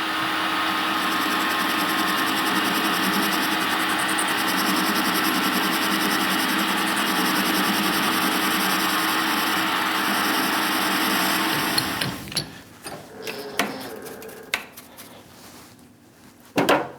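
A metal lathe runs steadily, cleaning up the thread on a cheap 5C collet chuck with a continuous machining hum and whine, then winds down into scattered clanks and handling sounds.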